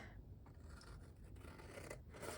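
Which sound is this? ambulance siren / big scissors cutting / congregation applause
big scissors cutting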